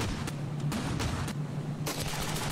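A weapon in the Ravenfield video game fires a few heavy bursts separated by brief pauses, loud and close, with no talking.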